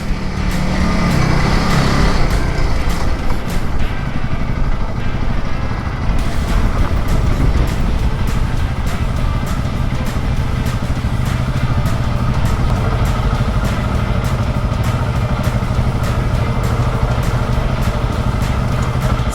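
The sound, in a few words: motorbike riding through thick beach sand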